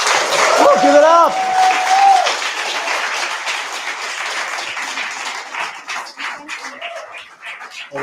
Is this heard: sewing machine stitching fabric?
no